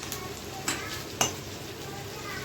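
Potatoes and capsicum fry quietly in a home kitchen pan, a soft sizzle punctuated by two sharp utensil clinks.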